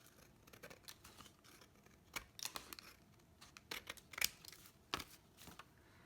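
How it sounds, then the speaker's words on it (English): Gift wrapping scissors snip through wrapping paper in a run of short, crisp cuts, some louder than others, with quiet rustling between them and no talking. "These are my gift wrapping scissors, actually. And now we're going to cut this off."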